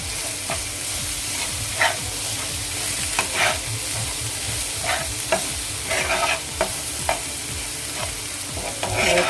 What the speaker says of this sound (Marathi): मसाला मसाले मिक्स करून झालेत परतून झालेत